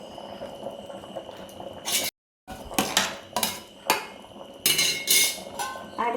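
Tapioca (kappa), cooked about three-quarters through and salted, simmers in a covered pot. Soft bubbling runs throughout, broken by a brief gap and several sharp metallic clinks of the lid and pot.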